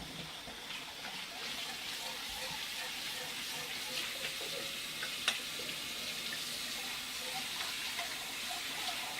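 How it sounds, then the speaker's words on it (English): Tap water runs steadily into a sink while a bowl is washed in a home kitchen, a soft continuous splashing hiss with faint clinks, close and fairly quiet. "So just allow me to wash one bowl real quick."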